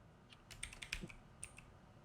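Computer keyboard being typed on while a password is entered during a Void Linux terminal session, a quick run of close, crisp key clicks with short pauses between bursts, no voices.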